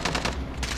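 Video game gunfire, a short rapid burst of several shots in quick succession, loud and close, lasting under a second with no talking.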